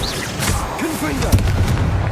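A Confringo fire spell detonates in the Hogwarts Legacy video game, a loud booming blast with rumbling low-end bursts, some brief tonal game sounds, and a sharper impact near the middle.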